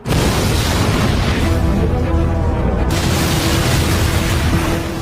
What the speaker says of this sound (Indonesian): tiba-tiba saja terjadi ledakan di dalam restoran